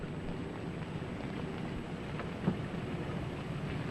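Steady rain falls in a dense, even patter, with one brief louder drop or knock partway through and no other sounds.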